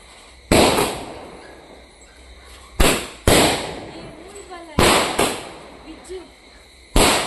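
Diwali firecrackers burst nearby, each loud sharp bang followed by a decaying crackle, about six blasts at uneven intervals, with people talking between them.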